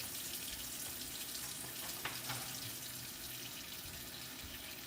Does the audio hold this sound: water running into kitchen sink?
yes